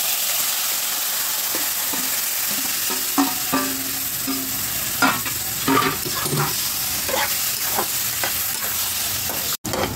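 Bottle gourd frying with shrimp in a wok hisses steadily up close, while repeated stirring adds irregular scraping and clattering bursts over the sizzle.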